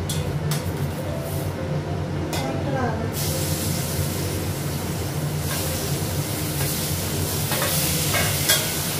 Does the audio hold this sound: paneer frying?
yes